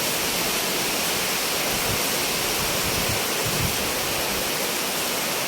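Strong wind and heavy rain from typhoon Aghon roar in a loud, unbroken broadband rush, close and constant with faint low gusting surges and no voices.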